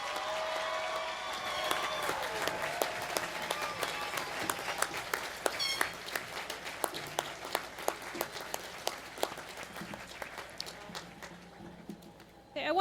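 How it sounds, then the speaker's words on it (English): Crowd applause at a university spring commencement ceremony, broad sustained clapping from a large audience in a big space, with talk at the start and scattered sharp claps as it tapers off. "Okay, we can give a round of applause for everybody right now."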